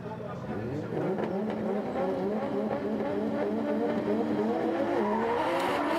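Drift cars racing at Sportsland Sugo in Miyagi during a Formula Drift Japan top-16 battle, engines revving steadily and loudly with rising and falling pitch throughout, commentary voices mixed in.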